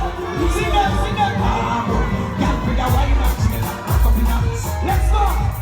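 A lively crowd of young people cheering and shouting at an outdoor gathering, loud and continuous with whoops rising and falling over a thumping low backdrop.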